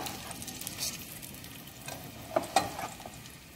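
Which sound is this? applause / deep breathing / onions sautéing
onions sautéing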